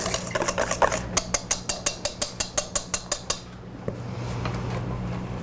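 A whisk or spoon beats a chocolate dessert mixture in a bowl with about a dozen quick, evenly spaced clinks, each a sharp knock against the rim, then the clatter stops and a low hum remains.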